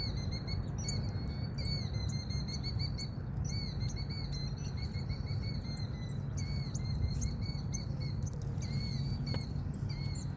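Steady chirping and calling from several marsh birds at a wetland, fairly distant, over a constant low background rumble of wind or water.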